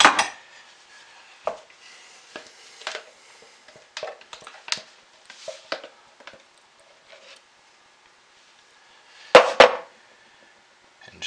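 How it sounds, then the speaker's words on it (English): A utensil scrapes and clinks against a container while soap batter is moved into a soap mold, giving scattered sharp taps and short scrapes at close range, with a louder cluster of clatter near the end. "Scrape this out to get the majority of it into this soap container"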